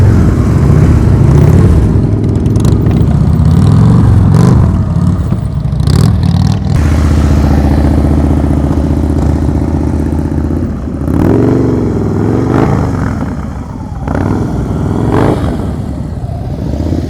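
Motorcycle engine during slow-speed riding practice, loud and close, droning with throttle rises and dips and a rumbling, revving tone that swells again near the end, with no talk.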